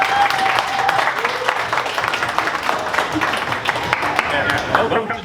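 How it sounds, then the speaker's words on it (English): Steady applause from a crowd at a live video game speedrun event, dense continuous clapping throughout with some voices mixed in. "a warm applause for Simon here"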